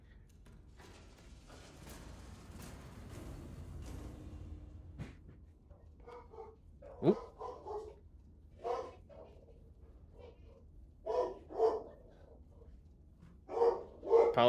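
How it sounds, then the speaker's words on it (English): Dogs bark in a real home behind a turret simulator game session, a few separate bursts spaced irregularly after a quiet stretch of low mechanical hum, and a brief spoken exclamation is heard. "Apologies for the barking."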